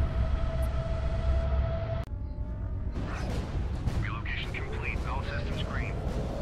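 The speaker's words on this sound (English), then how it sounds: "I do take a little wave of missiles in the face there" A wave of missiles strikes a spaceship in Fractured Space, a loud whooshing rumble of impacts after a steady engine drone cuts off, with a voice talking over it.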